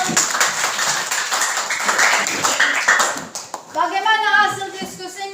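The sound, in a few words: class applauding a group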